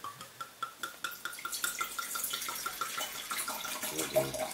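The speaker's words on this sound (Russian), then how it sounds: "сюда ее тоже наливаю, пускай постоит" Saperavi red wine poured from a light bottle into a glass, a near liquid trickle with small rhythmic glugs and splashes building steadily throughout.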